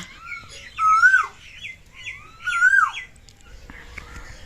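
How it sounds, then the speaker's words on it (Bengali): A bird in the morning sings two clear, whistled phrases a couple of seconds apart, close and fairly loud, with faint higher chirps from other birds around them. "দেখো পাখিটা কি কত সুন্দর ডাকছে।"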